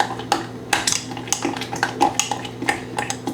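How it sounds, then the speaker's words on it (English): Peanut butter pumpkin oat cup mixture being stirred with a utensil in a bowl, giving repeated close clinks and scrapes in an uneven rhythm, with no talking. "go ahead and stir those in."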